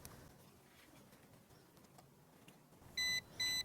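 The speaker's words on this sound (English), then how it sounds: "And it beeps, and then spin it like this." Two short, bright electronic calibration beeps from a Ruko F11PRO 2 drone near the end, each about a quarter second, after a stretch of faint rustling and handling noise.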